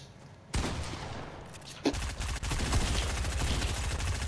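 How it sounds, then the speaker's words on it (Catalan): Gunfire in a video game aimed at the player: a sudden onset of dense, rapid shots that swells into sustained, loud automatic fire through the rest of the moment, with no talk over it. "algú m'ha disparat pel darrere"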